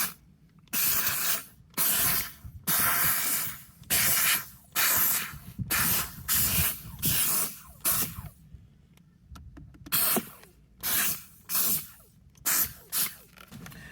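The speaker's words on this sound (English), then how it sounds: "Squeeze the trigger back here. It's already plugged in and warmed up, and you'll see it puff out some hot steam." A handheld steam cleaner being used for car detailing fires repeated sharp puffs of hot steam, about a dozen loud hissing bursts in an irregular rhythm, separated by short quiet gaps.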